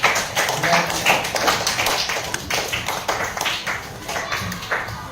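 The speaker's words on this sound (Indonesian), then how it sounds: "kasih tepuk tangan untuk" Students in a classroom clap for a classmate's presentation, an uneven patter of separate claps from a small group at close range, lasting several seconds.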